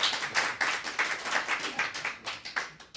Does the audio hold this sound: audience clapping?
yes